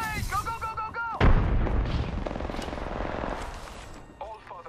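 Grenade blast and heavy automatic gunfire in the battle game Apex Legends, a loud boom followed by a sustained, dense burst of shots, with a player voice shouting briefly before and after.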